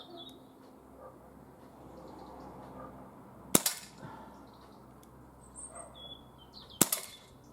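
An Umarex CP88 air pistol fires two sharp, loud shots a few seconds apart outdoors, each a crisp crack with a short tail, amid faint birdsong.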